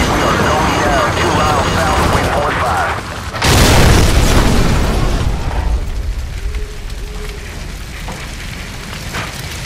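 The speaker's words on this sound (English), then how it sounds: "Incoming missile. This is Tower 6-4, we are going down." A missile strikes a helicopter in Call of Duty 4: Modern Warfare, giving a loud, deep boom and roaring blast that swells and then rumbles away. Radio-style voices and battle noise sound before and around it.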